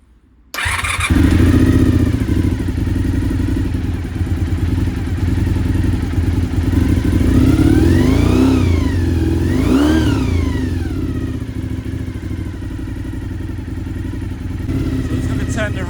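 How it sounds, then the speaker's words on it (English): A Honda VFR400 NC30 motorcycle under restoration fires up and settles into a loud, close idle, then revs rise and fall twice in smooth sweeps before the engine drops back to a steady idle. "So we should be able to start the bike now."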